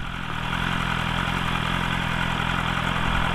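A BMW S1000RR sport motorcycle engine idles steadily up close, a constant dense mechanical hum with no changes in revs and no voices.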